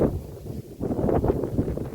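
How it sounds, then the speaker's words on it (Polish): Strong wind buffeting the microphone, a continuous low roaring rumble with gusty surges and no voices. "Bardzo mocny wiatr."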